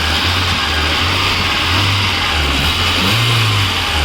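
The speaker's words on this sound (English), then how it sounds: "Just going to rev the engine for you guys." A 2012 Maruti Gypsy King 4x4 with a Euro 3 MPFI petrol engine revs in short repeated bursts over a steady idle, close and loud, with no talk.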